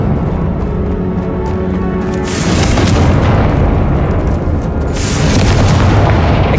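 Confringo blasting spell in Hogwarts Legacy, cast inside a tomb with an altar: two loud, roaring explosive bursts a couple of seconds apart over a continuous rumbling background.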